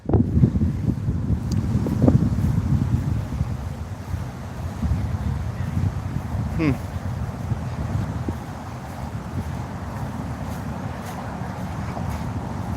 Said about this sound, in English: Sorry if you can't hear me because of the wind.